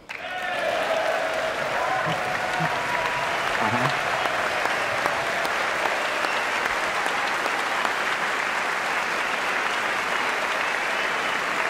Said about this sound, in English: Of course, the applause goes on there for a little while.